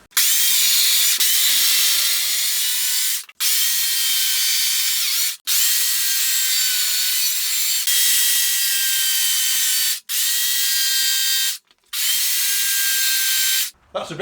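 Makita UC3041A 12-inch corded electric chainsaw cutting along the grain of wood, a loud, steady high-pitched motor whine in long sustained bursts broken by short pauses, close up.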